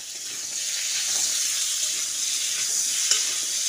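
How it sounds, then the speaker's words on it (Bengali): Sliced medium potatoes frying in oil with a little salt, a steady close sizzle with soft stirring scrapes and one sharp clink near the end, no voices. "এবার সামান্য একটু নুন দিয়ে আলুটাকে ভেজে নিচ্ছি।"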